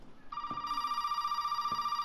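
A telephone rings steadily in the Resident Evil 7 video game, a continuous buzzing electronic trill that starts abruptly and carries on, with a couple of faint knocks beneath it.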